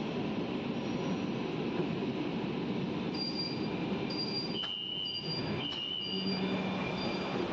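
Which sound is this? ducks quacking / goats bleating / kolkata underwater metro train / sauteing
kolkata underwater metro train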